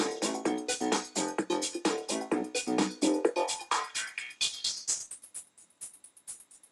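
Music runs through a high-pass filter on a TTM57 mixer. The bass drops away as the cutoff sweeps upward, leaving a thin, hissy swoosh by the end.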